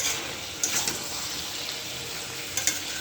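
Shrimp and jackfruit fry in hot oil in a spicy Bengali-style curry, giving a steady sizzling hiss with a few soft stirring clatters, close and alone.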